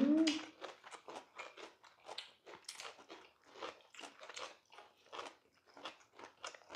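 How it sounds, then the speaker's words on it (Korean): Seasoned dried squid, dressed with pollock roe and hot chili, is chewed up close in a quiet home kitchen, with steady, rhythmic crunching bites and a brief voice at the start. "엄청 꽁꽁 씹어야 돼요."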